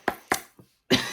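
Three or four sharp coughs in quick succession, close and fairly loud, with short pauses between them.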